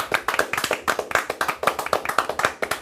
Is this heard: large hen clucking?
no